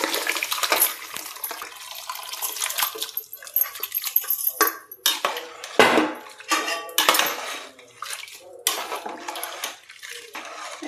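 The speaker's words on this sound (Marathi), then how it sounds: "आपण जे शिजवून घेतलेलं मटण आहे ना ते पाण्यासहित त्यात ओतूयात" Cooked mutton and its cooking water are poured from a vessel into a pot of rice for mutton biryani, giving intermittent splashing and sloshing with clinks of utensils against metal pots, close by and fairly loud.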